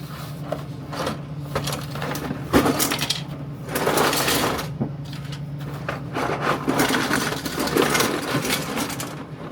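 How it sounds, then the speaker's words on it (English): 3D printers run while printing Multiboard pegboard parts, a close, continuous mechanical whir with rhythmic scraping and rubbing motions and a few sharp knocks, with no voices. "we're going to go ahead and send this to our printers now"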